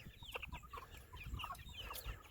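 Young backyard chickens, now growing quite big, cluck and chirp in quick irregular bursts close by, with soft low thumps and rustling underneath.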